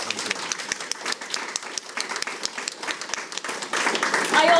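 Audience applause for Matthew after a live weight-loss hypnotherapy demonstration, with steady clapping from a modest crowd holding at an even level throughout and swelling slightly louder toward the end.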